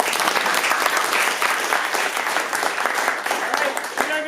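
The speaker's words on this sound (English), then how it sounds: "I want to give a great big round of applause to all of our wonderful speakers." Conference attendees at a talk on streaming Oracle data to Hadoop give the speakers a round of applause, a dense, lively clapping that stays loud throughout with faint voices mixed in.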